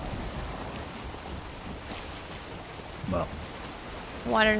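Rough ocean waves wash and splash steadily with wind in the Valheim video game while a boat rides the swell, a continuous loud roar with a couple of brief sharper tones near the end.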